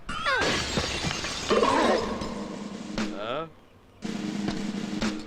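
A glass window shatters loudly after being struck by a thrown stone, with a sharp crash followed by ringing, tinkling shards as people react with voices around it.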